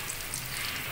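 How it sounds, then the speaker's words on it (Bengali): Chopped onions, about 250 grams, frying in hot oil in a pan until browned while cooking chicken bhuna, a steady close sizzle and crackle with no talk. "পেঁয়াজকে একটু বাদামি কালার করে ভেজে নিব"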